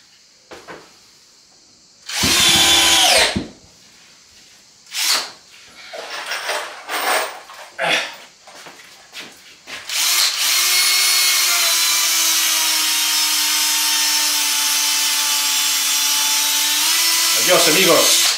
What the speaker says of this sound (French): Perceuse qui prend le feu.